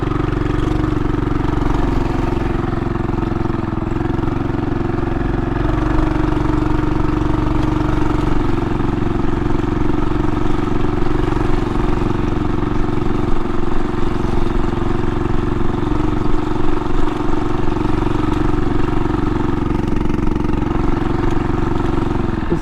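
A PhatMoto motorized bicycle engine runs on back roads with a loud, steady mid-pitched drone. It stays close and constant for over twenty seconds, with slight throttle swells and no talking.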